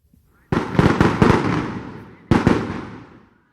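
Firecrackers set off at a political swearing-in celebration in Ernakulam, Kerala: a loud rapid cluster of sharp bangs, then another burst after a short pause, each trailing off in a fading crackle.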